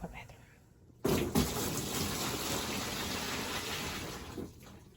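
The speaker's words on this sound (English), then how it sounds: "So now I'm gonna go ahead and pour them in the basket or bin in my bathroom." Near-boiling hot water poured from a pot into a bathroom bin for fabric dyeing, a loud steady gushing splash that starts abruptly after a second of quiet and runs continuously to the end.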